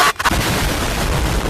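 A Stinger submachine gun fires in Valorant, a loud, close, rapid stream of shots blending into a steady rattle after a brief gap at the start.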